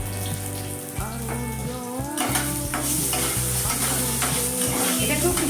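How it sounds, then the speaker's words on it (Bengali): Squash frying in a pan with turmeric, chili powder and salt gives a steady loud sizzle, punctuated by repeated scraping stirs of a spatula against the pan. "এইবার তার মধ্যে আমি কিছুটা হলুদ, লঙ্কার গুঁড়ো, লবণ দিয়ে এটাকে ভেজে নেব।"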